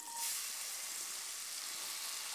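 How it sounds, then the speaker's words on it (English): Onion sizzles in melted margarine in a pan as the base for fried rice, a soft, continuous frying hiss with a slightly stronger start, steady and alone. "I'll dissolve the margarine, and then I'll go on to add onion next"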